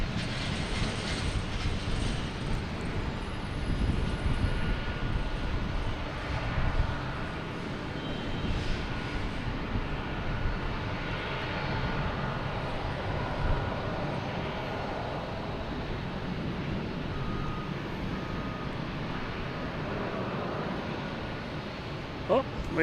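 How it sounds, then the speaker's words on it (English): A JetBlue airliner passes overhead near Boston Logan Airport, a broad, steady roar lasting throughout, with a person talking over it. "there goes that JetBlue over our head"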